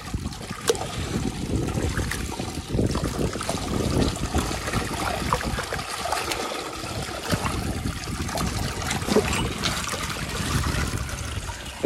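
Water pouring out through a broken mud embankment while a pool is drained for fishing, a continuous rushing trickle and gurgle with no talk.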